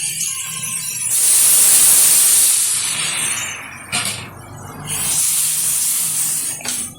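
Water poured into a hot pan of spices gives a loud burst of hissing steam and sizzle that fades, then a second surge of hissing, close up with no voices.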